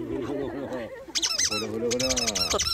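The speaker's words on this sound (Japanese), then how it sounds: "お父さんがこちら側からピコピコと音を立てて補助してくれました" A squeaky toy is pressed repeatedly, giving bursts of sharp, high, wavering squeaks after a quieter stretch. People talk nearby at moderate level underneath.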